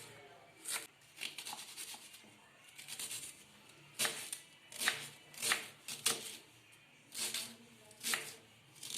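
A knife chops onion on a cutting board for an omelette, with a string of crisp, fairly close cuts coming in uneven bursts over a quiet background.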